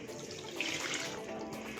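Seeraga samba rice being washed in water gives a short, steady splashing and swishing of water, close and fairly loud, with no talking.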